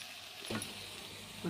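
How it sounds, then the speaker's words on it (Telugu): Vegetables frying in a pan for a vegetable masala curry give a steady close sizzle, with two brief louder scraping stirs near the start and end. "ఇలా అయితే వెజిటేబుల్స్ మొత్తం ఫ్రై అయిపోయాయి."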